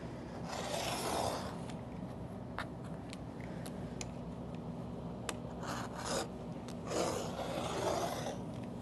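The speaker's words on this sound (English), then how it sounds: "you're going to take your rotary blade and you're going to cut it out" A rotary blade cuts through T-shirt fabric on a cutting mat with a few close, soft rasping passes separated by quieter stretches. No one speaks.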